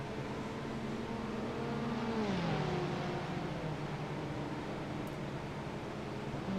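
Car engine in a racing video game, a steady whining drone whose pitch drops at a gear shift and then climbs again as it pulls away, heard alone with no voices.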